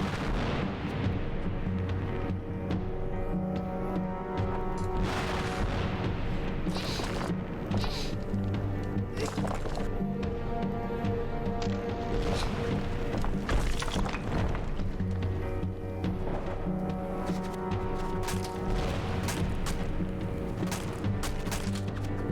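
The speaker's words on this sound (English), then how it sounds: "what am I doing about the gunfire then?" Sustained battle sounds in the video game Torn Away: dense, repeated gunfire and booming explosions that keep up an uneven barrage, loud and close, with brief bursts and heavy impacts throughout.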